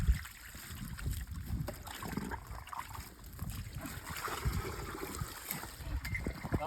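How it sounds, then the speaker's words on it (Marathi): Water pours into a vessel with a fairly faint, continuous trickling and splashing. The sound is uneven, with a low rumble underneath. "चला पाणी टाक चला"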